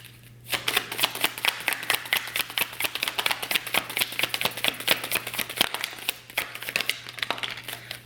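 Tarot cards being shuffled by hand at close range, a dense run of papery riffling and flicking that carries on for several seconds under a low steady hum, with no voices.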